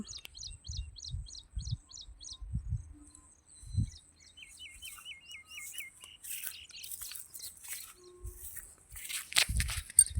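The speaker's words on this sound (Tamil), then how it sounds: "ஒரு மனத்தில் தான் அவ்வளோ குருவி கூட கட்டியிருக்கு" Weaver birds at a cluster of nests built in one tree give rapid, thin chirping trills in short repeated bursts, faint and somewhat distant, with low thumps and rustles of footsteps beneath.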